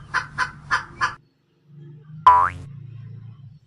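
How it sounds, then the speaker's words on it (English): A hen clucks four times in a quick, even rhythm, followed by a short pause and a springy cartoon boing in a children's learning animation. "HEN, Hahn."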